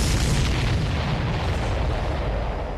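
Explosions rumble in Ace Combat 7 as a loud, continuous, booming roar that fills the whole stretch with little variation, with no talking over it.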